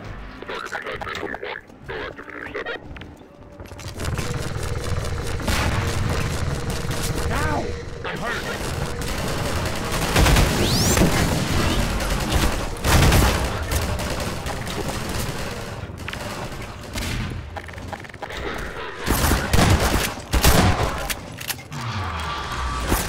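Rapid gunfire in Half-Life 2 rattles on through a long, busy firefight, with bursts of shots, clanks and mechanical clatter, while a person talks over the action.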